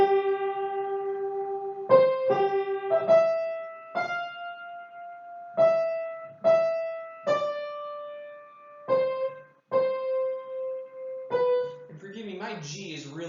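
A home piano with an out-of-tune G plays a Romantic-era symphonic theme as a slow line of separate sustained notes, close and clear, followed by a voice at the end.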